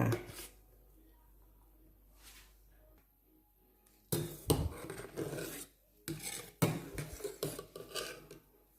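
Pandan leaves are scooped out of a pot of melted sugar syrup, heard as rough scraping and rubbing of a utensil against the pot in several close, loud bursts after a quiet stretch.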